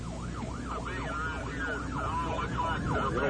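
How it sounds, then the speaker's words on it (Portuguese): A storm chaser's vehicle siren wails in steady rising and falling sweeps, loud and continuous over the rumble of the moving vehicle on the way toward a tornado. "minha sirene estava ligada"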